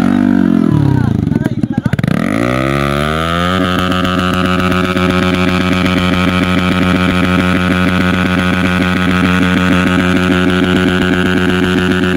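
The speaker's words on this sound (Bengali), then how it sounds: "এখানে যা বাইকের একটা ক্রেজি মুভমেন্ট চলছে" A motorbike engine very close by revs loudly in a rising sweep over the first few seconds, then settles into a steady, throbbing run for the rest, among busy bike traffic.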